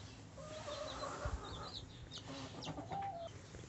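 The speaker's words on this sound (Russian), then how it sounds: "Это цыплятки породы Лигхорн." Newly hatched Leghorn chicks on their first day out of the incubator, kept in a box with sawdust and hay: faint, scattered high peeping and soft clucks from several birds, fairly quiet and continuous.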